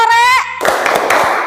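Students in a class rhythm game clap hands three times in quick succession, right after a brief spoken call, the claps blending into a rough burst of noise.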